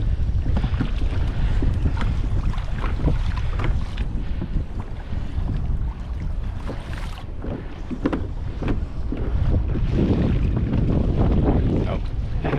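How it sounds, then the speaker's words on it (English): Wind gusting at sea around a kayak offshore in the Pacific, heavy buffeting rumble on the microphone with water sloshing against the hull, loud and continuous. "Wind is picking up a little bit, so I'm just trying to hold our position as best I can."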